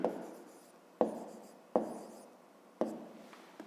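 A pen writes on paper during a fifth-grade math exercise: four distinct close, soft scratching strokes, each sharp at the start then trailing off, in a quiet room with no talking.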